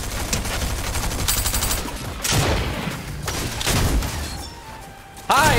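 Shotgun blasts ring out in the video game Fortnite, a few sharp, separate bangs between quieter stretches of game sound, with no talk.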